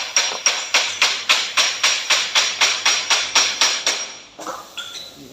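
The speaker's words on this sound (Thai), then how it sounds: "เสียงเคาะเหล็กเริ่มเบาเลยครับ" A hammer strikes metal in a steady, even rhythm, about a dozen ringing taps, before stopping and leaving faint clatter.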